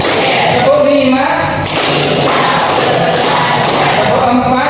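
A school class claps together in rhythmic counted patterns, sharp group claps landing in short bursts amid a loud, busy room, with voices chanting along between the beats.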